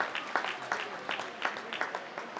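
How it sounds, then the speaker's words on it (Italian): Spectators in the stands at an Italian Serie A2 roller hockey match applaud, producing a moderate, steady patter of many hands clapping at some distance, with faint crowd murmur underneath. "Applausi dagli spalti."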